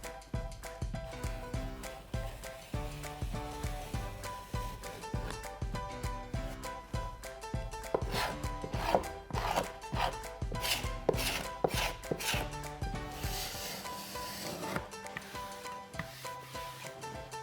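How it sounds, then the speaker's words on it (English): A paint scraper drags over painted wood where petroleum jelly was applied beneath the paint, giving continuous scraping and rubbing strokes with rhythmic rasping passes, close and moderately loud with no talking. "I will use a paint scraper to remove the paint from the areas where I have applied the petroleum jelly."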